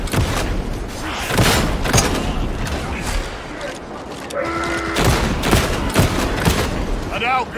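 Combat shotgun fire in the video game Darktide, several loud sharp blasts spread through a busy battle mix with mechanical clatter, with game character voices talking between shots.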